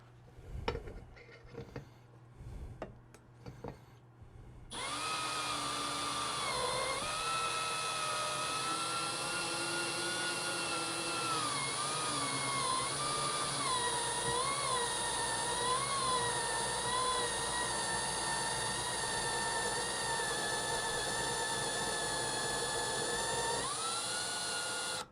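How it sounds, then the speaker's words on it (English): A reamer is driven into a transmission valve bore on a 42RLE automatic transmission valve body, making a steady, loud high-pitched whine with shifting tones that runs for about twenty seconds after a few brief clicks and handling sounds. "now I'm going to ream it."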